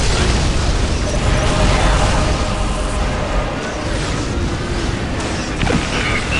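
Weapons fire and explosions from the strategy game Dawn of War: Dark Crusade, a dense and continuous battle din of booms, pops and mechanical clatter throughout.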